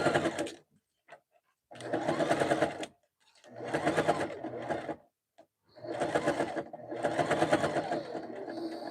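A sewing machine stitches a jelly roll rug in four loud bursts of rapid whirring, separated by short pauses as the fabric is repositioned.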